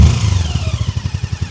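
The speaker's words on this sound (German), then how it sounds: "Auspuffsound auch sehr gut. Also sehr sonorer Klang, jetzt nicht aufgeregt, nicht zu bissig." Lambretta G350 retro scooter exhaust idling close by, a deep, sonorous low thump with evenly spaced pulses and a mild, unaggressive note, heard alone.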